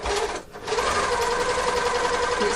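An edge-trimming serger machine neatening a fabric edge with its blade, running in a steady fast whirring chatter after a brief pause, close and continuous.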